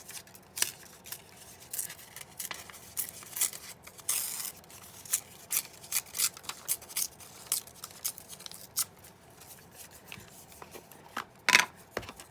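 A strip of paper torn by hand for an envelope journal, heard as a string of short, dry rips and rustles at close range, with a louder tug near the end.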